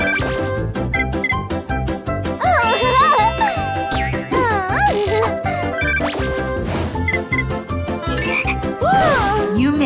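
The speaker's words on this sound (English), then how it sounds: "You made a frog!" A frog croaks in a children's cartoon, with repeated short croaks and bright sliding tones set against busy, loud background music that runs the whole time.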